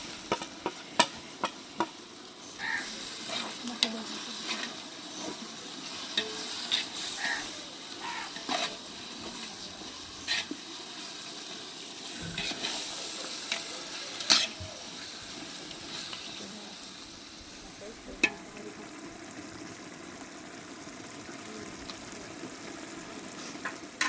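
Chicken fries with masala spices in a pan, a continuous crackling sizzle with repeated scraping stirs and clinks close by, and faint talk in the background.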